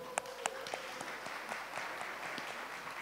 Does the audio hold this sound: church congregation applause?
yes